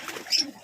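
Pigeons give a brief, soft coo among other birds in an outdoor enclosure with rabbits, lovebirds and parrots, a quick close call lasting under a second.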